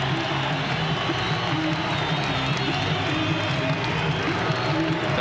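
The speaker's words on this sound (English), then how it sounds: "this crowd on their feet at the Salt Palace" A packed basketball arena crowd on its feet at the Salt Palace during a 1991 Jazz vs Celtics game, a dense, loud, steady roar of cheering and noise filling the whole stretch, with no clear breaks.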